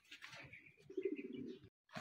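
Racing pigeons coo close by at a rural loft during a pigeon race, with soft throaty rolling coos and a few chirps in a short burst that then drops away.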